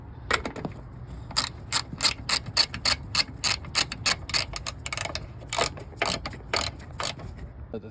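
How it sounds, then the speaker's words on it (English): A ratchet wrench tightens the three strut top nuts on a 2015-2021 Subaru WRX, a close, loud run of rapid metallic clicks in short bursts with brief pauses between strokes. "now go to the top and tighten up the 3 nuts on the top"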